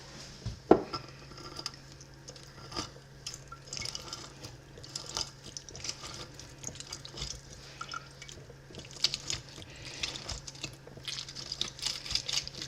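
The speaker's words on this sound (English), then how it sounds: "we're going to juice up 1 lemon. And this is how I juice my lemons" A lemon is squeezed by hand on a juicer, giving intermittent clinks of the tool against a dish, soft squishing, and dribbles of juice in irregular bursts, close and moderately quiet.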